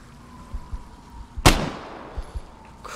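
A single sharp, loud sniper rifle shot cracks in the Vigor multiplayer game, preceded and followed by softer footsteps or thuds, with a short decaying echo after the blast.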